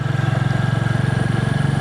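A Royal Enfield Bullet 350 motorcycle engine thumps with a steady, rapid pulse while climbing a steep uphill, held at a constant labored pitch close by, with no talking.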